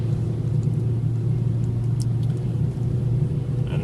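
A 2013 Fiat Punto with Dualogic transmission holds a steady low engine drone with road rumble while engine braking downhill, continuous and close, with no talking.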